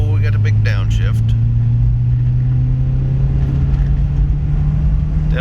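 A used car's engine roars loud and close through a full-throttle downshift, a sustained droning rumble that holds and rises slightly, with a person speaking briefly over it.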